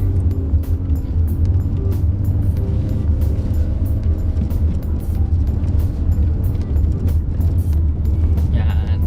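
Mitsubishi Xforce engine working hard up the steep Sungay Road at about 3,200 rpm, a loud, steady low drone heard from inside the cabin with faint voices mixed in.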